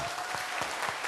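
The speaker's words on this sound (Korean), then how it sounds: "박수해 주세요." A church congregation applauds a newlywed couple, a brief burst of full, dense clapping filling the room.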